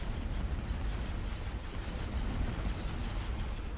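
Torpedo volley fired by an MC-30 frigate in the space battle game Star Wars: Empire at War Forces of Corruption, heard as a dense, continuous rumbling barrage of low booms and mechanical clatter that stays loud and steady throughout.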